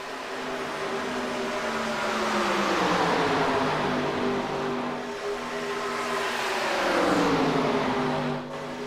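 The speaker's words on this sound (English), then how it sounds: "If the volume of the cars get too loud, you guys let me know, and I will turn it down." Race cars lapping a track during qualifying at a Chevyland-sponsored racing event, a steady loud engine drone with pitch rising and falling as cars pass, building toward a louder sweep near the end.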